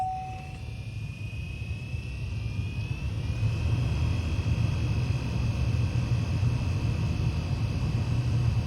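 A 2013 Chevrolet Impala heater blower motor whirs at an even pitch with the ignition on, with a constant low rumble and a faint high whine, running alone without any talk.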